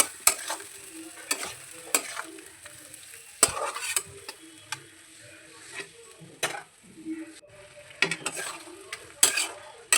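A spoon stirs fish roe gravy with cauliflower and beans in a pan, a soft continuous sizzle broken by repeated sharp metallic scrapes and knocks against the pan at an irregular pace.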